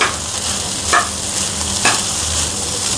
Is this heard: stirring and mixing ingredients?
yes